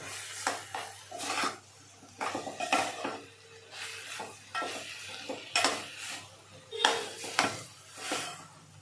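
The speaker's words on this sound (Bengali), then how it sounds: "এবারে সমস্ত কিছুকে খুব ভালো করে সবজির সঙ্গে মিশিয়ে নেব।" A spoon scrapes and stirs dalia khichdi with vegetables in a pan in repeated short strokes, each scrape rising and falling, with a faint sizzle underneath and no talking.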